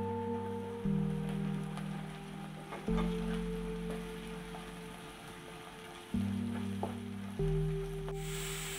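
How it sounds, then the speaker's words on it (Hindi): Onion, ginger, garlic and green chilies fry in a pan for a Kerala egg curry, giving a quiet, even sizzle with an occasional faint stirring tap, heard close with no speech. "कांदा थोड़ा सा भून रहा है तो उसमें हम अदरक लहसुन डाल देंगे चॉप किया हुआ, और ग्रीन चिलीज भी ऐड कर देंगे"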